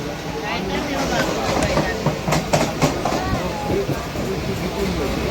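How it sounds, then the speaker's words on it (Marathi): Ride aboard a local commuter train running from Thane to Titwala, with a loud steady rumble, wheel clatter and rattling carriage noise, while people talk over it. "लोकल सुटलेली आपली नऊ वाजून अकरा मिनिटाने ठाण्यावरून टिटवाळ्याला जाणारी"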